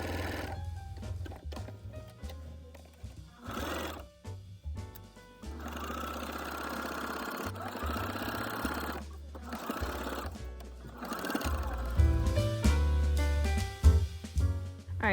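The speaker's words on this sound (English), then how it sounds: "here I'm sewing the lining together" A sewing machine stitches the lining of a flowy dress made from a thrifted flat sheet, its mechanical whirring broken into uneven bursts under a busy, layered background with no one speaking.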